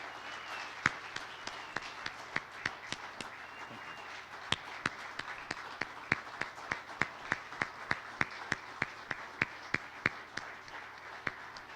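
An audience at a Purple Heart Medal service gives a round of applause, a steady field of hand claps with a few sharper individual claps standing out, heard at a distance and continuing throughout.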